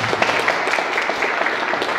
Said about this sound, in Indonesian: Tepuk tangan untuk Mas Aufa.